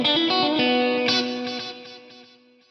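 A Lexicon PCM81 effects processor running its chorus plus reverb algorithm colours a bright, sustained tone with shimmering chorus and repeated delays, decaying gradually into a long reverb tail.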